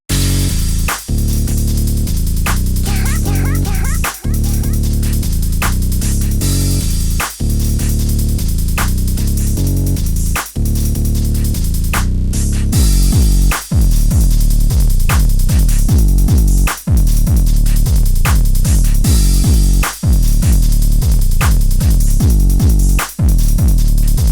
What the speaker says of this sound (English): So all of the percussion together sounds like this.